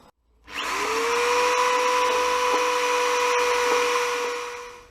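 A power drill boring into metal whines steadily after spinning up, a sustained high-pitched motor tone with faint grinding, loud and close, running continuously without pause.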